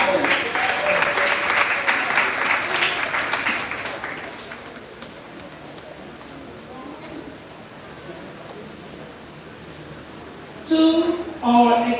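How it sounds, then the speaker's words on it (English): Audience applause at a high school graduation ceremony in a large hall, a broad steady clapping that fades to a murmur before a voice begins speaking. "Please clap them."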